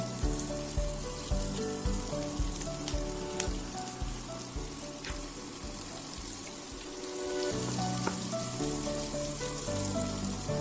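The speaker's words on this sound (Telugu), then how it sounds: "క్యారెట్ వేగిన తర్వాత ఉల్లిపాయ ముక్కల్ని కూడా వేసుకోవాలి" Capsicum, carrot and onion frying in a pan for mint rice: a steady, crackling sizzle like rain, punctuated by regular dull knocks and scrapes of stirring, with no voices.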